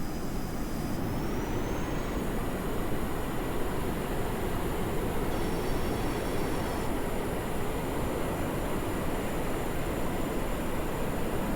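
A rocket lifts off in Kerbal Space Program, a steady, loud, roaring engine rush with a broad hiss that holds constant for over ten seconds.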